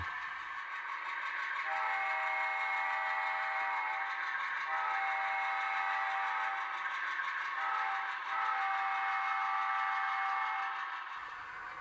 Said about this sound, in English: While I was at it, I also changed the horn sound.